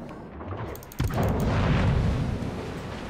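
A large explosive shot from an enemy mech in a video game strikes at once, then a dense, loud rumble rolls on without a break.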